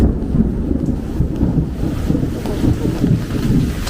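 Deep rumbling thunder rolls through a heavy rainstorm, with steady rain and gusty wind noise buffeting the microphone throughout, continuous and fairly loud with no clear breaks.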